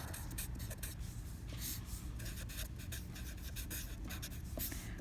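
Marker or pen writing a definition on a board during a math lesson on complete graphs, a steady scratchy rubbing with short bursts of strokes, close and continuous for about five seconds with no talking.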